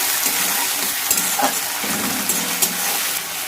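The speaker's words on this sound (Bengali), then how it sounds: "দিয়ে দিচ্ছি পেঁয়াজ কুচি পেঁয়াজটা একটু ভালো করে ভেজে নেবো" Chopped onion frying in hot oil, a dense steady sizzle with occasional scrapes and clinks of a spatula stirring in the pan, close and loud, no talking.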